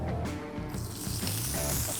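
A thin fish fillet sears in an oiled pan over high heat, giving a steady, close hiss and sizzle with soft crackles throughout.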